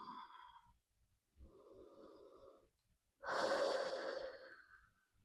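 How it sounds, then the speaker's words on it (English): Deep, slow breathing during a yoga pose, three long audible breaths close to the microphone, the last one the loudest and fullest, with quiet gaps between them. "Keep breathing, holding"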